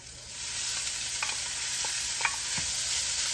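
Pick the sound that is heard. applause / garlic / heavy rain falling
garlic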